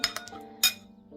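Salad dressing seasoned with salt and pepper is stirred in a bowl, giving a few bright clinks of a spoon against the dish that are spaced unevenly and heard close with no talk.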